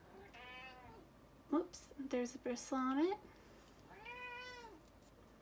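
A house cat meows several times nearby, drawn-out rising and falling calls at the start and end, while a person speaks briefly in between.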